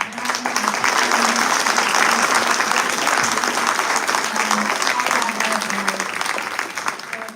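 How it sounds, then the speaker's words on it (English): Audience applause at a citizens' town hall in Roanoke, many hands clapping in a sustained dense burst that holds steady and then gradually fades, with faint voices underneath. "A round of applause again for"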